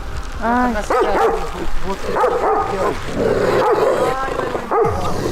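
A dog in Yakutsk, Siberia barks and yips repeatedly at close range, a rapid run of sharp, high barks with whimpering notes, with people speaking nearby.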